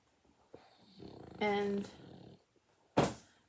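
A dog barks a few times indoors, short sharp yelps with a longer harmonic bark in the middle, moderately close and standing out over a quiet room.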